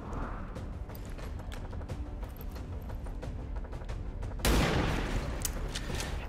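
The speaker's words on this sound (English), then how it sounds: "Should be able to kill 5 zombies if all of our shots connect right now" Gunfire aimed at zombies in XCOM 2: War of the Chosen, a patter of quiet shots building to one loud, close burst near the end, with no voices over it.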